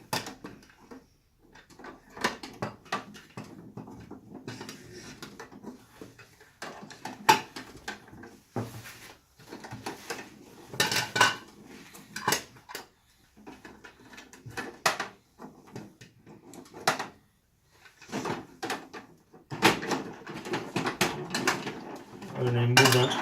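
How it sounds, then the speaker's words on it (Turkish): A Bruder MAN toy garbage truck loading trash, with scattered plastic clicks, rattles and clunks of the mechanism as it is handled, while someone talks throughout. "Bakın şimdi çöpü yükleyeceğiz."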